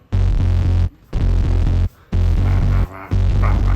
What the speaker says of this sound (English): This is the plasma pedal, so I actually hooked up my bass to this guy